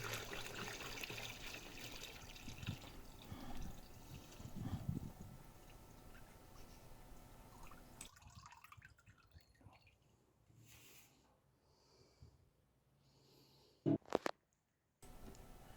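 Diesel drains from a tank through a funnel, a soft continuous trickle with faint drips and gurgles, quiet and close, tapering off before a few brief knocks near the end.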